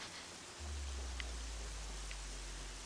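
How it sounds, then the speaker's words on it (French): Rain in the video game Horizon Zero Dawn, a soft, steady hiss of falling drops with a low rumble underneath, faint and unbroken with no voices. "Ah, mais en plus il se met à pleuvoir."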